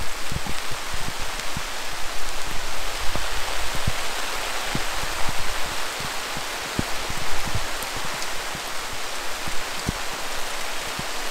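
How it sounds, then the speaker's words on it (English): Hail and heavy rain pour down during a storm over a garden, a dense loud hiss broken by sharp scattered pelting hits. "We're having a crazy hailstorm."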